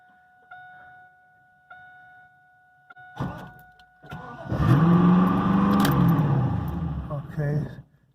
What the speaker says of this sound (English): Well, it started up, but it's racing.